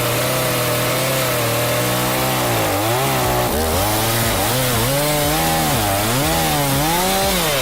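A chainsaw roars loudly up close, its pitch dipping and surging repeatedly as it bites into a large tree under load.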